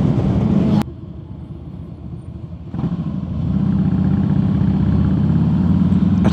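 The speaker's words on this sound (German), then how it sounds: "Alter, wie laut ist seine Sportster?" A Harley-Davidson Sportster motorcycle's exhaust roars on a group ride, a loud, deep, throbbing rumble that dips briefly, then swells back to a steady heavy drone close by.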